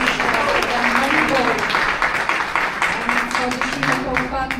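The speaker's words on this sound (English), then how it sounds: "big round of applause" An audience at a spiritual gathering applauding, a steady patter of many hands clapping at moderate distance, mixed with voices and cheering from the crowd.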